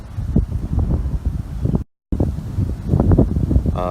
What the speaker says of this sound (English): It's a little bit windy here, so hopefully you guys can hear me.